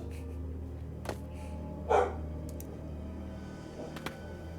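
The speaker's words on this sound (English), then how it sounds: "Clover's gonna bark because someone's in the street." A dog gives a single short bark in a quiet room, fairly faint, while a low steady hum and a few light ticks sound in the background.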